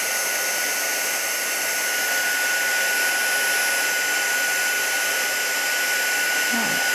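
A heat embossing tool blows steadily and loudly for several seconds, melting embossing powder on a paper gift bag, its constant whirring hum with a fixed tone running throughout.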